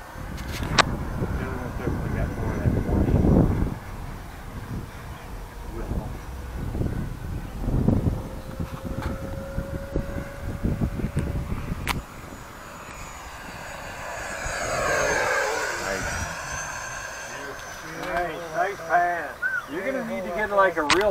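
An E-flite F-16 Thunderbird 70mm electric ducted-fan RC jet flying over a grass field, a whooshing whine that swells and fades as it passes, with people talking nearby.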